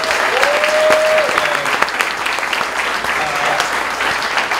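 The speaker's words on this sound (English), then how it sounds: "No, round of applause, please." Audience applause at a 2016 kickoff event, a steady full-room clapping that holds at an even level through the whole stretch, with a faint voice and a brief tone heard under it.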